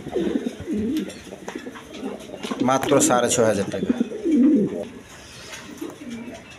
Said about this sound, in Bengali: দুটোটাই একদম ভালো জাতের কবুতর